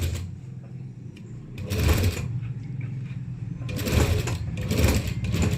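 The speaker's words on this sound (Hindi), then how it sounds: "तो यहाँ पर मैं चाप की सिलाई लगाऊंगी" A domestic sewing machine stitches fabric while a simple jabba garment is cut and sewn, running steadily up close with bursts of faster, louder stitching; no talk is heard.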